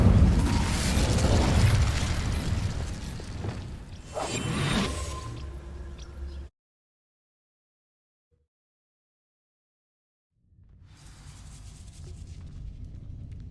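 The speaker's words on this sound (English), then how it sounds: "These dry vines are one spark away from becoming kindling. Incendio!" An Incendio fire spell ignites dry vines in Hogwarts Legacy, giving a loud whooshing burst of flame with a crackling roar that surges, then cuts to silence before a quieter ambient rumble returns.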